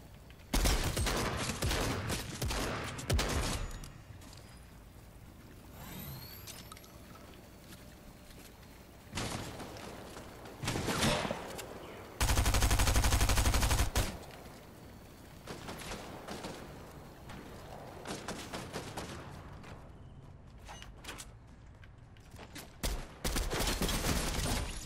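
Gunfire in a shooting video game: several bursts of rapid shots and loud blasts crowd the start, middle and end, separated by quieter stretches of game ambience.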